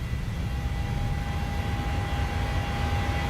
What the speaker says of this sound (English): We were cleared for takeoff.